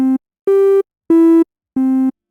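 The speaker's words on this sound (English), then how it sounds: "which sounds different from a triangle wave, which sounds a little more subby," Synthesizer oscillator playing a triangle-wave tone: four separate sustained notes, each about a third of a second long, with short gaps between them. The tones are loud, clean and steady, with no voices.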